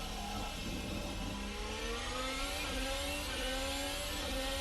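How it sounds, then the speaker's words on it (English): A Formula Hybrid 2020 race car engine in a racing sim game, screaming at full revs through a lap, a loud continuous whine with rising and shifting pitch and no talk over it. "And that's full revs on the engine as we go through the source for the first time."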